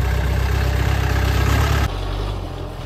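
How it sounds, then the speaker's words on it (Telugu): A jeep's engine idles and labours close by on a badly broken track leading to the Kudremukh trek base, a steady low rumble that drops slightly in level partway through. "చూస్తున్నారు కదా జీప్స్ వెళ్ళడానికి ఎంత కష్టంగా ఉందో"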